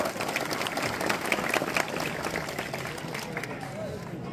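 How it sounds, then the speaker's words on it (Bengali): An audience at the Gobindapur Chhau dance fair claps in a dense, sustained round of applause, loud and close with crowd noise throughout and a slight easing toward the end. "সুভাষের জন্য আরেকবার জোরে হাততালি সবাই।"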